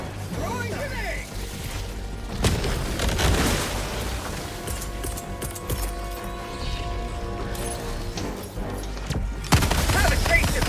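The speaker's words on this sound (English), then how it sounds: "Throwing grenade." Grenade thrown and exploding during Helldivers 2 combat, loud blasts and booms layered over dense gunfire and battle noise, with a person talking over the chaos throughout.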